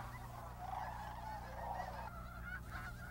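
A large, crowded flock of geese at Bosque del Apache wildlife refuge, New Mexico, honking continuously in a dense, distant chorus with a steady low rumble underneath.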